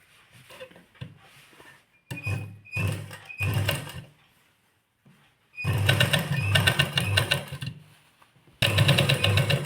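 A sewing machine stitches fabric from an old jacket into a warm dog jacket, running in several close, loud bursts of rapid rattling separated by short pauses, with no talk over it.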